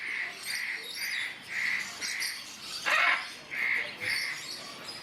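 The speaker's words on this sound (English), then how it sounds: "The hyacinth macaw in the distance." Hyacinth macaw calling repeatedly at a bird park, a series of evenly spaced harsh squawks at moderate distance with one louder, closer burst midway, no talking.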